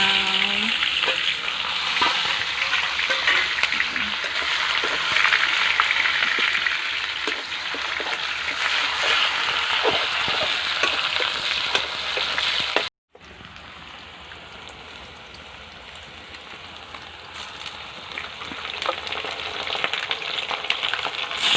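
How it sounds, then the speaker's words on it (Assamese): Chicken pieces frying in oil over a fire, a dense continuous sizzle and crackle close by, briefly cut out near the middle and then resuming slightly softer. "তেলত ভাজি আছোঁ।"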